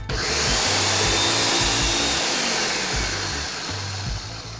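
An electric blender pulses egg nog (ponche) as rum is added, a steady loud whir broken by short on-off surges, with no talking.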